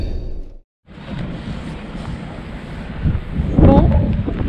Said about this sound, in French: il y a toujours autant de vent